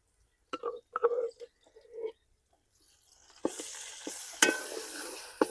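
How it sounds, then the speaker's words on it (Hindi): A few soft stirring scrapes, then a steady sizzle of garlic-ginger paste frying in a hot pan, with occasional utensil clinks. "दो से 3 मिनट तक अच्छी तरह भुनाई कर लेंगे लहसुन और अदरक की भी"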